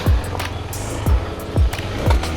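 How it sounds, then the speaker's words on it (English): Several heavy, low thuds strike at irregular intervals, each a sharp metallic knock of a KTM 390 Adventure's skid plate hitting ground on a rough trail, over a steady engine rumble. "that was a skid plate hit. Didn't sound very nice."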